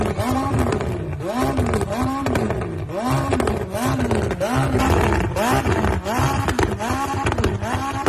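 Dodge Challenger engine roaring hard on nitrous, a loud continuous snarling drone with repeated rising and falling revs pulsing about every half second, close and unbroken throughout.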